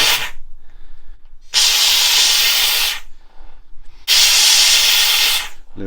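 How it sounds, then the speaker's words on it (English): Handheld steamer hissing steam onto the headlining of a Jaguar MK2, two loud sustained bursts of several seconds each separated by quiet pauses, close and alone. "get the old steamer out"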